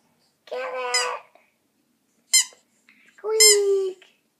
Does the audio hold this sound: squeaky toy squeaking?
yes